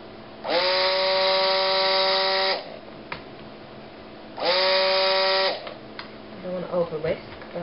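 An electric whisk beats goat's milk soap batter for cupcake-style soaps, two loud steady whirring bursts of about two seconds each separated by a pause, followed by light clinks and handling noises.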